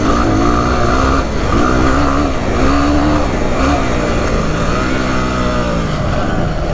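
A Yamaha WR250R dual-sport motorcycle is ridden hard, its engine loud and close as the revs rise and fall repeatedly through gear changes without a break.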